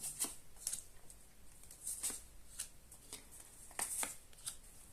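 Crisp tarot card slaps and flicks as cards are laid down one after another at an uneven pace, close up, with no talking.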